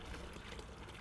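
Water flowing from the outlet of a natural swimming pool's airstone-driven pump, a continuous close pouring trickle with no voices.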